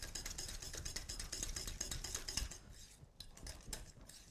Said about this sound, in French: Donc pour ça, il faut fouetter.